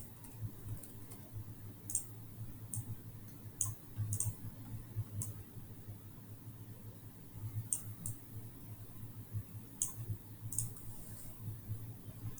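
Computer keyboard arrow keys tapped one at a time in a quiet room, faint sharp clicks spaced irregularly every second or two over a low steady hum.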